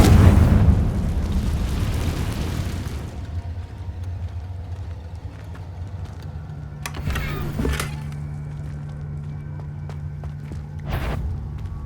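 A Confringo blasting spell explodes in Hogwarts Legacy on PS5 with a loud, broad boom at the start that rumbles away. Softer thuds and bursts follow, with a sharp crack near the end.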